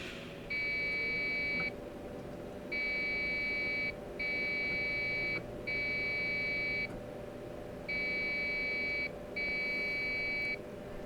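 Electronic beeps sound in short groups of one, three, two and a pause, a startup beep code from a Dell XPS 720 computer, over a steady low machine hum, with no talking.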